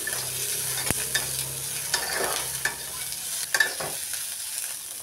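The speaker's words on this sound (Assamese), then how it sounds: "মই ভাজি লৈ আছোঁ।" Chopped large onion and red chillies fry in a pan, a steady sizzle broken by sharp scraping clinks of a spatula stirring, fairly close and without any talking.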